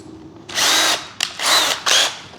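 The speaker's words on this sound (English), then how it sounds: "I guess we got to drill a hole big enough to pass that under and through" A power drill with a 1/4 inch bit bores a hole during the build of a 1.6 m Fi 186 Storch model plane, whining loudly in three bursts, the first long and the last two shorter, with brief pauses between.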